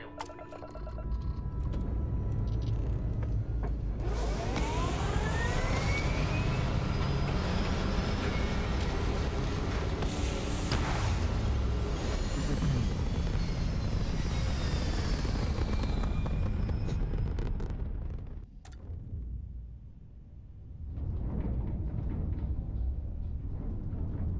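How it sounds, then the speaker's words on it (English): A spaceship lifting off into space in the video game Starfield: a loud, sustained engine roar with rising whines and rumble that holds steady for about eighteen seconds, dips briefly, then resumes. "Let's go ahead and sit in the pilot seat, and we will take off and get to space."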